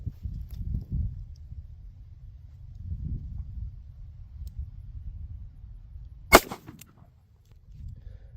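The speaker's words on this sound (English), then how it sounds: "I'm shooting it with the LCR 38 Special with the Hornady Max self-defense rounds from point blank range" A Ruger LCR .38 Special revolver firing a Hornady self-defense round point-blank into a Kevlar Level 3A holster gives a single loud, sharp report midway through, set against a low, steady background rumble.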